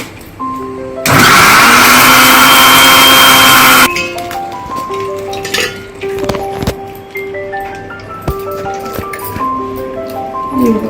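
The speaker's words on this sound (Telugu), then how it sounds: "మిక్సీ చేసుకోవాలి." A mixer grinder blends carrot and beetroot with a little water, a loud, steady whirring roar for about three seconds that cuts off abruptly, followed by quieter clinks and faint tones.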